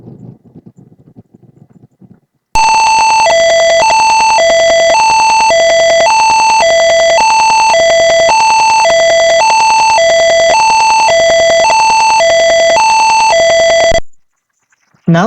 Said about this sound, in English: this should play an ambulance siren.